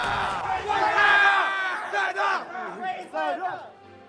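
Loud, close cheering and roaring from a home crowd at the Floating Point 2026 Super Smash Bros. tournament in Australia, swelling then breaking into rhythmic chant-like shouts.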